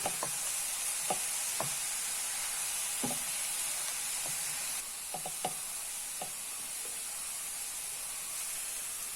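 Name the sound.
stirring banana stem cutlet mixture with ginger in pan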